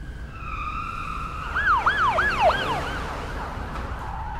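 A police car siren wails nearby, its rising and falling yelp cycling rapidly a few times over a steady tone, loud and clear with no talking.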